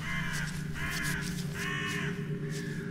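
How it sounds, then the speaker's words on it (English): Several crows caw in harsh, repeated calls over a low, droning ambience in the game White Night, the bursts coming in uneven clusters at moderate distance. "And some crows."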